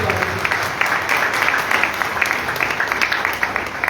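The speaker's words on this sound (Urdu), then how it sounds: "ہاللیلویا، میرے سلام زوردار تالیاں بجائیں۔" Congregation applauding during a Sunday church service, a dense, sustained patter of many hands clapping at a steady level throughout.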